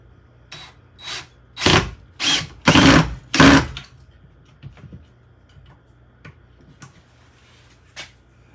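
A power drill drives Phillips screws in several short, whirring bursts close by, followed by quieter scattered clicks and handling noises.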